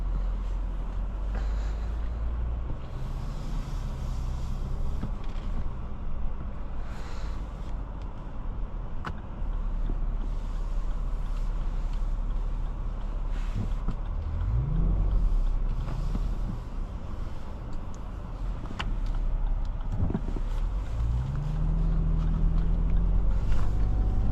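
Interior road noise of a 2025 Lexus GX 550 Luxury Plus on a test drive, a steady low rumble with wind and faint creaks, plus a few rising engine tones as it accelerates.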